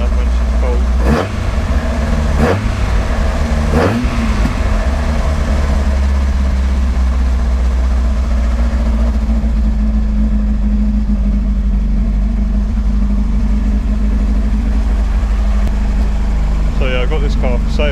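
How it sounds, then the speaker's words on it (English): A cold carbureted car engine idles loudly and unevenly up close, with a few revs or stumbles near the start, then a steady low rumble; a voice speaks briefly at the end. "Typical carbs, it doesn't like idling when she's cold."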